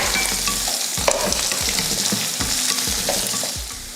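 Chopped onion, ginger and garlic sizzle steadily in a hot pan, with a spatula scraping and stirring in a rough rhythm close by and no talking.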